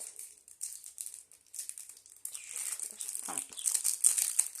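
Crinkling and tearing of a foil wrapper as a 2014-2015 Champions League football card pack is opened, close and fairly faint, with crackly bursts that grow busier and louder toward the end.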